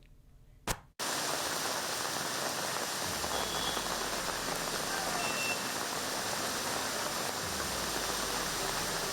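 After a sharp click and brief hush, a dense, even wash of heavy evening rain in Bengaluru roars on without pause, loud and steady.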